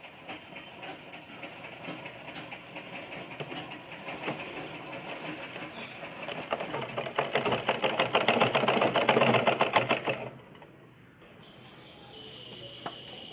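A sewing machine stitches cloth for a cross-cut blouse piece, its rapid needle chatter building steadily louder for about ten seconds before stopping, leaving quiet room noise and a small click.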